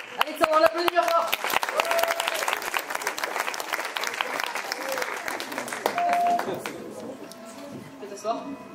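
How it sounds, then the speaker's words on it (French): Audience at a cabaret evening applauds loudly, dense clapping with a few cheers and whoops, sustained for several seconds before tapering off, voices mixed in. "Alexandre, on l'applaudit bien fort"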